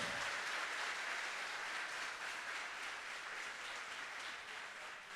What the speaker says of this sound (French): Vous voulez applaudir avec beaucoup de chaleur